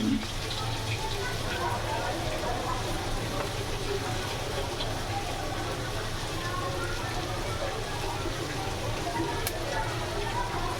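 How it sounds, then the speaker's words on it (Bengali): Fish fries lightly in a pan with spiced masala, giving a steady, even hiss throughout with no clear breaks. "হালকা ভাজি"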